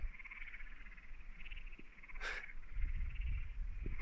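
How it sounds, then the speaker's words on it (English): Frogs and insects call at Symphony Lake in the Tyndall Range, a faint, continuous high chorus of chirps and trills over quiet outdoor ambience. "I think it's actually called Symphony Lake because of all the sounds of the insects and maybe frogs."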